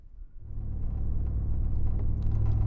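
Low rumble of a Ford F-150 pickup engine on a narrow UK road, a steady droning drone that builds slightly after a quiet start and holds close and moderately loud throughout.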